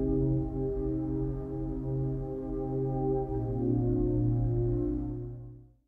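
A warm, slightly wobbly synth pad from a tape orchestra plugin playing sustained chords with a low bass note, changing once midway before fading out.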